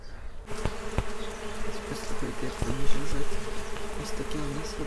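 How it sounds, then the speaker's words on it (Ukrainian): Bees flying around a garden plot by a country cottage, a soft, steady insect buzz close by with a few sharp clicks and low background hum, no talking. "Пчоли вони просто літають навколо."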